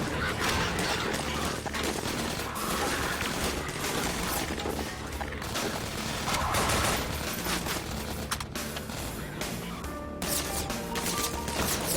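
Gunfire in the video game Half-Life 2 Episode 1: a dense, continuous clatter of shots and crashing impacts fills the whole stretch at high loudness, with no pauses and no talking.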